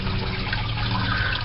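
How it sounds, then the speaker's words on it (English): Water drains steadily out of an aquarium sump after the system is switched off, a constant gurgling rush that is close and unbroken throughout. "And we're going to let this thing drain out."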